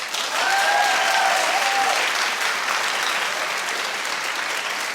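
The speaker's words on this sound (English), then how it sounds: "Clap if you like that." A television studio audience claps loudly and continuously, dense full applause with some cheering voices mixed in, holding strong throughout before easing slightly near the end.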